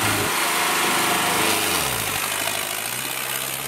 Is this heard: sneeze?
no